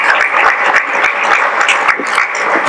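A crowd claps steadily and loudly, a dense wash of many hands without a break.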